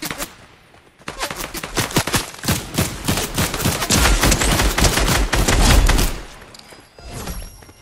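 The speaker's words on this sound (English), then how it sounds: "Somebody shooting at it." Gunfire in the video game Fortnite rattles in dense, rapid bursts of automatic shots, loud and nearly continuous for several seconds before fading into quieter sporadic pops.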